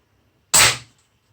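A single sharp shot from a Hatsan Flash QE .25 air rifle cracks loud and close, then a short decaying tail fades into quiet.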